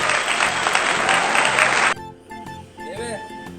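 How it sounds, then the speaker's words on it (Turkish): Children and family clap together for the winner of a game, a dense burst of applause for about two seconds that cuts off abruptly, followed by voices and laughter. "Hadi hep beraber alkışlayalım"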